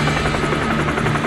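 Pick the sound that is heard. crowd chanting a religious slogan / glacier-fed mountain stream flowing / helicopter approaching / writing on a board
helicopter approaching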